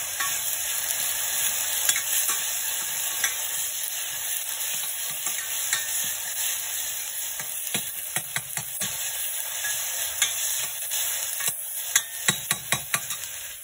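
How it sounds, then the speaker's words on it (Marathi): Ginger, garlic, coriander and green chili paste fries in oil in a pan with a loud, steady sizzle. Stirring scrapes and clicks against the pan come through the sizzle, more often toward the end. "आला लसूण कोथिंबीर आणि हिरवी मिरचीची आणि छान फ्राय करून घेऊया."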